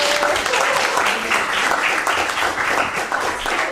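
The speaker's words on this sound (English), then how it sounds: "We can clap her more." Sustained clapping from an audience at a semiotics festival session, honouring a participant's performance, with a steady wash of many hands and a slight swell midway.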